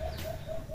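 A dove or pigeon coos from nearby in a forest setting, a soft low repeated call heard clearly and alone over a faint background hiss.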